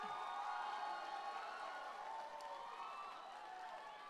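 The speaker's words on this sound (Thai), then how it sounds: "ขอเสียงปรบมือดังๆให้กับเพื่อไทยอีกสักครั้งครับ" A crowd at an outdoor political campaign rally in Bangkok claps and cheers in a sustained wash of applause and voices, heard from a distance and fairly faint, with some whistles or horns mixed in.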